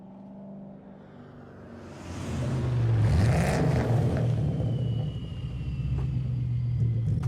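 A car engine idles low, then revs up loudly and holds a deep, throaty rumble that wavers and stays strong to the end.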